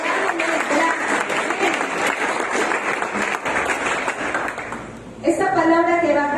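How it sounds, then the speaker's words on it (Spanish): Church congregation applauding in a dense, sustained wash of clapping that fills the room, with voices mixed in and tonal singing or music rising near the end. "Denle un aplauso al Señor porque es soberanamente grande"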